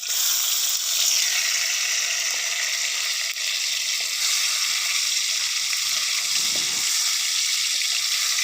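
Tomatoes frying in a pan for a village-style kidney bean dish give a loud, steady, close sizzle that hisses evenly throughout with no talk.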